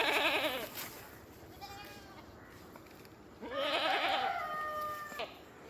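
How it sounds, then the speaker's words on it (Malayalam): A dairy goat at a livestock sale bleats twice, a wavering call at the start and a louder, longer one later, with quiet farmyard background between the cries. "നല്ല പാലിൻ്റെ ആടാട്ടോ"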